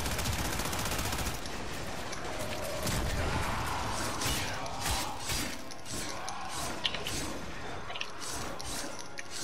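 Sustained automatic gunfire from the video game Warframe, dense rapid bursts with sharp impacts and scattered clatter running continuously throughout, loud and close with no pauses.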